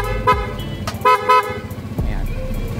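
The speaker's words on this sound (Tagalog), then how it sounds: "So malakas yung busina natin mga kamos, nakakabulahaw sa kapitbahay." Motorcycle horn after lubrication maintenance, honking loudly in several short blasts of uneven length, with faint voices around it.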